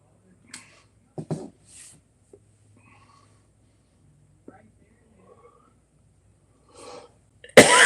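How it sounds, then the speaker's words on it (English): A few short, sharp coughs break a quiet room, then a loud sneeze bursts out at the very end. "A cough, an itch, and a sneeze."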